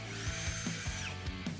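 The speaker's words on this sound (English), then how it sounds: "all we need to do is drill through the center of the sheared bolt" A power drill bores into the center of a sheared bolt, its steady motor whine running close and loud throughout with short pulsing grinds as the bit bites the metal.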